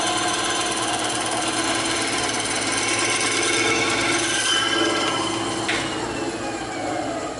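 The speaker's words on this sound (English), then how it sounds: "because we have a bandsaw, I'm going to use that" Bandsaw cutting EVA foam, a loud continuous mechanical rattle and whine running throughout, up close with no talk.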